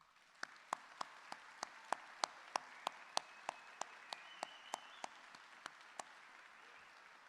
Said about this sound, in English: I ask our guests to join me in applause to acknowledge their hard work